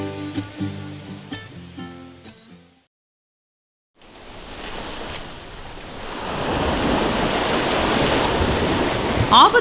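Ocean waves during a sea voyage, a loud broad roar of surf and wind building after a few seconds of silence, preceded by a short passage of music.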